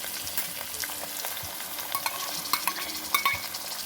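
Sweet potato pieces frying with garlic in a pan on a gas stove, a constant sizzle broken by sharp scrapes and clicks of stirring, close and without speech.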